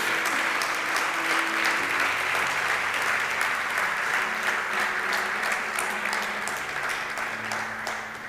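Sustained applause from a church congregation praising Jesus during a sermon, a broad, continuous rush of clapping heard from a little way off that holds steady for several seconds and eases slightly near the end.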